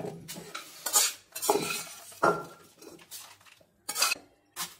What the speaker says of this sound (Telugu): ఇప్పుడు వీటిని నెమ్మదిగా ఇలా దంచుకుంటున్నాను.